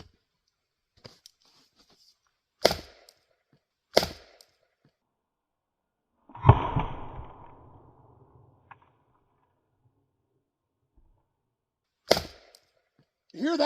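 An axe splits firewood on a chopping block, cutting around a knot: a few sharp, loud strikes spaced apart, one followed by a longer rending crack of the wood giving way, with quiet gaps between blows.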